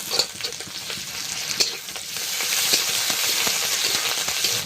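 Panch phoron spices and ginger-garlic paste sizzle steadily in hot oil for a village-style Bengali fish curry, a close, continuous crackle with occasional stirring scrapes that grows slightly louder partway through.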